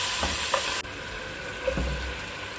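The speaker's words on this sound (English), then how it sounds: "add that to the oil. Spread it around, saute, max 3 minutes, 4 minutes." Food sautéing in hot oil in a pan, a continuous close sizzle with a few soft stirring scrapes and no talking.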